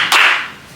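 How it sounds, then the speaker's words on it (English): A group of people clapping along in unison, one sharp, loud clap that decays quickly. "So I want you to clap with me."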